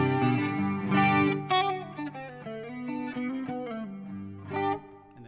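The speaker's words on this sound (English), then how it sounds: "I've got a clean chorus" Clean electric guitar through a Marshall sound with a shimmering chorus effect, single notes and chords ringing out in a gentle melodic line, played alone.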